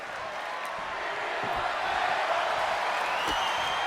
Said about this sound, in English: Again, the Evolution crowd pleading their case for tables.